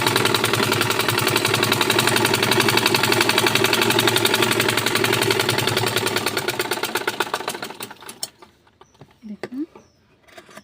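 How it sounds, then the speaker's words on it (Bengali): A sewing machine stitches pajama fabric in a fast, steady mechanical whir with a rapid needle rhythm, loud and close, then slows and stops near the end, leaving a few quieter clicks and handling sounds. "সেলাই দিয়ে নিচ্ছি।"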